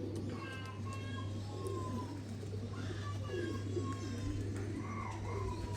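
Pigeons of the original 35 variety coo in wavering, overlapping calls over a steady low electrical hum, with scattered background noise throughout.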